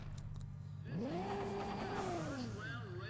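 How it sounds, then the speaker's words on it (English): A 1056-horsepower car in the racing game Need for Speed ProStreet revs up sharply and holds a loud, rising engine whine for a couple of seconds before easing off, heard through game audio with faint background sounds. "That's what my car sounds like."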